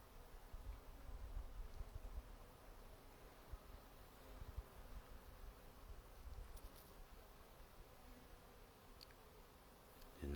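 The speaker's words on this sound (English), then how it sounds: "Take a quick listen with me and for the Bee Symphony." A swarm of bees buzzing outdoors in spring, a faint, steady hum with soft rustling in the background and no voices.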